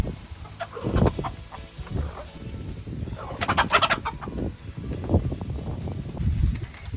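Hens squabble over the pecking order in a coop, with close, loud bursts of agitated clucking and squawking that come and go irregularly and peak in a shrill flurry midway.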